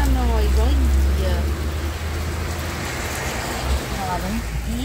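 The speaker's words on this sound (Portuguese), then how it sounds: "uma chuva lá fora" Rain falling outside a Kombi camper van, a steady close patter and hiss on the roof with low rumble underneath, while people talk inside over it.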